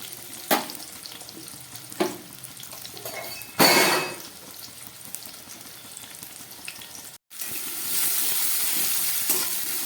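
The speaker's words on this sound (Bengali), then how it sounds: "আলু আর পেঁয়াজটা আমি একসঙ্গে ভেজে নিচ্ছি।" Potatoes and onion fry together in a pan of oil, with a steady sizzle throughout, a few sharp clinks and scrapes of a utensil against the pan, and a louder burst of frying near the end.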